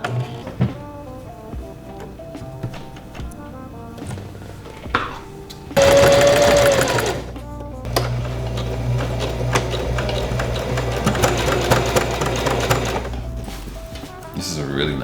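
A domestic sewing machine stitches darts into the back panels of a garment, with short bursts of motor whir and needle clatter, a longer steady run later, and a person talking quietly in between.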